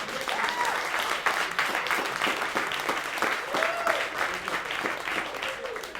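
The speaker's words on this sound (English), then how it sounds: "Let's cheer our politicians back in." An improv comedy audience cheers and applauds for two performers playing politicians, steady dense clapping with whoops and shouts rising over it throughout.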